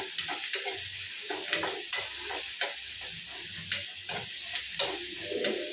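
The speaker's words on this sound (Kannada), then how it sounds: "ಈ ಥರ ನೀಟಾಗಿ ಫ್ರೈ ಮಾಡ್ಕೊಳ್ಳಿ" Ingredients for avarekalu bassaru fry in a pan with a continuous bright sizzle, punctuated by regular stirring scrapes and light clinks of a spoon against the pan, close and fairly loud with no talking.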